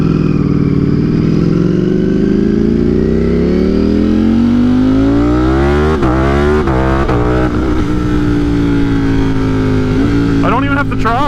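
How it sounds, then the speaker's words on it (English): A motorcycle running a flash-tuned engine is short-shifted at about three-quarter throttle, its loud, close engine note climbing steadily, then breaking into quick drops and rises as it changes up through the gears. "I'm literally short shifting and like giving it maybe 3/4 throttle."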